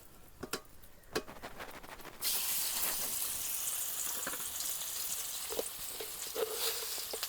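A few sharp taps give way to a loud, steady sizzle of green pea paste hitting hot oil, continuing close up with occasional crackles.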